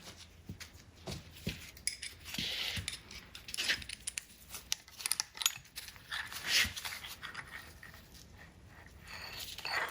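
Heavy steel jaw from a Bridgeport milling machine vise being handled and flipped in a shop, giving a series of irregular metallic clanks, scrapes and jingling knocks, close and fairly loud, with no talking.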